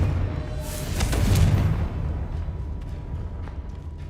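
A Confringo fire-blast spell bursts in the Hogwarts Legacy video game, a deep, rumbling explosive whoosh that swells and then fades into a low lingering rumble.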